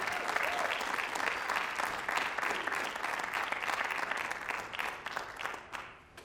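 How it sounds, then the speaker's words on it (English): An audience at a schools address event applauds the Davies Jazz Band, dense sustained clapping that fades out at the end. "Can we give another round of applause for the Davies Jazz Band?"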